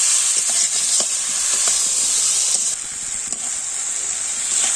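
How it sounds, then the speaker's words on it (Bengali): Eggplant sautéed and stirred in oil in a frying pan for a dried-fish curry, giving a steady close sizzle and hiss with scattered light scrapes and taps of the stirring spoon. "আমি বেগুনটা এর সাথে কষিয়ে নিচ্ছি ভালোভাবে।"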